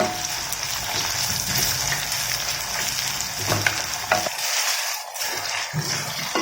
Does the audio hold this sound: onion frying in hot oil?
yes